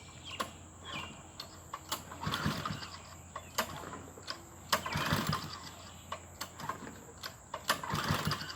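An old 5 HP go-kart engine is pull-started: repeated rope pulls give short sputtering bursts that catch and chug briefly without settling into a steady run.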